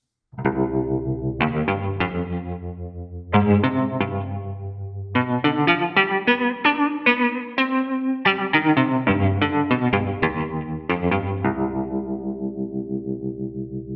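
A sampled punk electric guitar plays distorted chords in short bursts and longer sustained stabs, heavy and saturated with some echo, without any talking.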